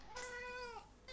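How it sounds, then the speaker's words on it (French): A hungry house cat gives one drawn-out, rising then falling meow while begging for kibble in the morning, close by but quiet, with no talking. "Ça, c'est le chat qui nous harcèle tous les matins pour avoir ses croquettes."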